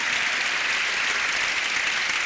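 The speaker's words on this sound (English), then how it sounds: "How you clap will tell me how much you have enjoyed and learned the session." Steady, dense applause from a conference audience fills the room, loud and even from start to finish with no voices breaking through.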